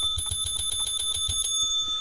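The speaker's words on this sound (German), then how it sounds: "die Bullshit-Bell muss geklingelt werden" A bicycle-style bell rung hard and rapidly as a mock "bullshit bell" during Assassin's Creed: Brotherhood play, a bright metallic ringing repeated in quick pulses for the whole stretch, loud and close with no talk.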